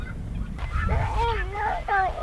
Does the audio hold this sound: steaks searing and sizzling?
no